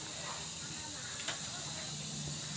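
Pork belly grilling outdoors in a province, with a steady hiss and sizzle running throughout and one brief crackle in the middle.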